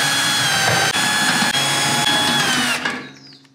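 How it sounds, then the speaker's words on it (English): A power drill with a deep socket bit whirs at full speed while backing out bolts from a furnace or AC blower motor, a close, loud steady whine with brief dips, then winding down and stopping. "it really helps to have a little set like this of deep socket drill bits"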